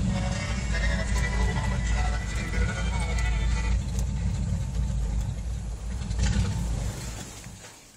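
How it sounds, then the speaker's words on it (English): A 1985 Chevy C10 truck engine idles with a loping, uneven exhaust rumble, loud and close throughout, fading slightly toward the end. "this is the lope, the classic lope."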